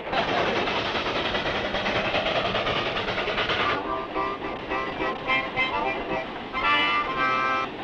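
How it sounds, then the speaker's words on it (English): A steam locomotive on a small-town spur line, belching black smoke, gives off a loud, steady rumbling chug that later thins into a ringing, tonal layer over the running noise. "And he's letting your child drive this locomotive?"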